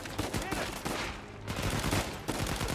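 Assault rifle hip fire in Uncharted 4 comes as rapid, loud automatic bursts of gunshots. Short pauses separate the volleys, and the shots stay close and dense throughout.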